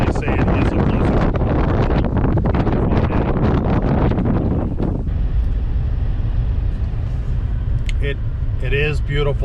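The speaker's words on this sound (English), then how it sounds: "It's the winds that make it near blizzard-like conditions." Strong blizzard wind blowing snow around a John Deere 3046R tractor, heard from inside the cab as a loud continuous roar and buffeting that eases partway through, with a voice speaking near the end.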